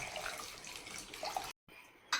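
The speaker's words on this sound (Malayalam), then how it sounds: "അതിനുശേഷം മുങ്ങി കിടങ്ങാൻ ഇതിൽ വെള്ളം ഒഴിച്ച് കൊടുക്കുക." Water pours steadily into a cooker pot of peeled tapioca pieces with salt, a continuous splashing stream that breaks off briefly near the end, then resumes.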